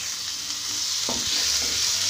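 Tomato and potato stuffing stirred and fried in a pan, with a steady hiss of sizzling and a soft scrape of the spoon partway through, close and continuous with no talk.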